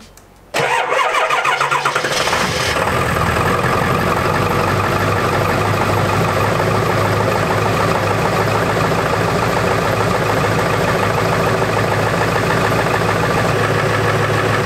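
A Ford Powerstroke diesel pickup cranks briefly, catches and settles into a loud, steady idle with a rough diesel clatter, close to the microphone and with no talk over it.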